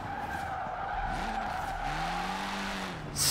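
An all-wheel-drive car slides through a Forza Horizon 4 gymkhana run, its tires skidding and squealing in a long continuous screech over the engine drone, with rising engine tones mid-way and a sharp noisy burst at the end.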